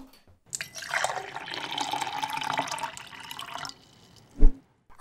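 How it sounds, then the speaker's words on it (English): Scotch whisky poured steadily from a bottle into a glass, a continuous liquid gurgle and splash lasting about three seconds, followed by a soft clink, close and alone. "Let's pour the scotch."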